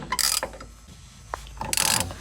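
A ratchet wrench fitted with a half-inch socket works a bolt on the underside of a 1963 Ford Falcon under restoration, two close bursts of rapid metallic clicking separated by a quiet pause with a single faint knock.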